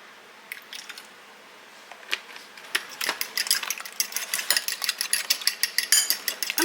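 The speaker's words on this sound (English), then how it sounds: "I'm just going to whisk that egg up just a little bit." An egg being whisked with a little milk in a bowl at home: quiet at first, then a rapid run of light clicking, tapping strokes against the bowl that grows steadier and louder toward the end, with no talk.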